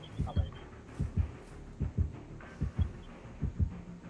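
In the Dead by Daylight horror game, a heartbeat thumps in paired lub-dub beats, loud and regular at roughly one pair per second, deep and muffled over a faint hum.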